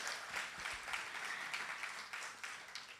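Faint, distant applause from an audience at a talk on African and Jamaican music and culture, a soft continuous patter of clapping for a few seconds.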